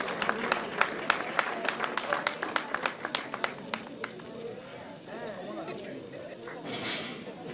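An audience claps for an award winner at a reporting awards ceremony, a run of scattered, separate claps over a murmur of voices that fades after a few seconds.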